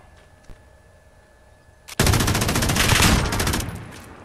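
Sustained light machine gun fire in the Modern Warfare video game, a dense rapid burst starting abruptly and rolling on loud and close for over two seconds before easing off.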